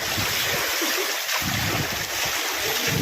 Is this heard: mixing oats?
no